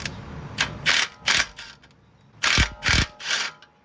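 Socket ratchet on an 18 mm bolt of an Audi S3 under repair, with several loud, close bursts of clicking in two clusters and short pauses between them.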